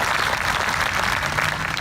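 Steady audience applause at an outdoor memorial ceremony for a traveling Vietnam Veterans Memorial wall in Hendersonville, dense continuous clapping without pause.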